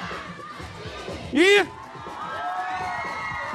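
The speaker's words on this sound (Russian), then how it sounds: "Ваши аплодисменты" Crowd at a breakdance championship in Abkhazia cheers under ongoing talk, with a loud whooping shout bursting out midway over the steady roar.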